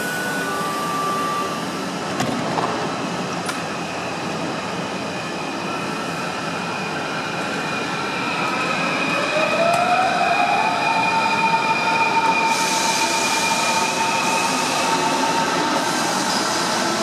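An S-Bahn class 481 electric commuter train runs past with a steady rumble and rolling wheel noise, high motor whines gliding up and down in pitch, and a brief squeal, growing slightly louder toward the end.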